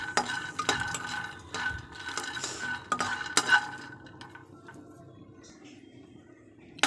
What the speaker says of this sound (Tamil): இந்த மாதிரி ட்ரை பேனில் நம்ம வதக்கிக்கணும்.